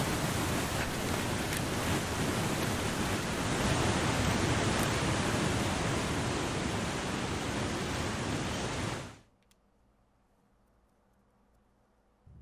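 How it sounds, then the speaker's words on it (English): Loud rushing waterfall in a video game, a dense broadband roar that holds steady for about nine seconds, then cuts off abruptly to near silence. "yay, loud waterfalls"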